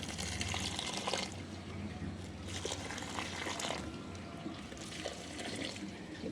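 Water is poured slowly onto a potted terrace-garden plant topped with manure, giving a soft, faint, continuous trickle and splash that swells slightly in places.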